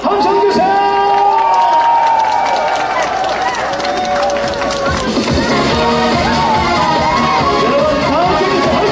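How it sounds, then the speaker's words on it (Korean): A large crowd at an outdoor presidential campaign rally in Daegu cheers and shouts continuously, with dense, loud, sustained crowd noise and scattered voices throughout. "박수와 함성 주세요"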